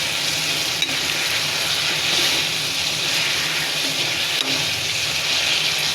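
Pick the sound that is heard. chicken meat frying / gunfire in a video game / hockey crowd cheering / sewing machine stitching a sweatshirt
chicken meat frying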